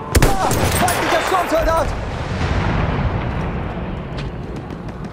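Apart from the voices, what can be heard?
machine gun fire in the video game Battlefield 1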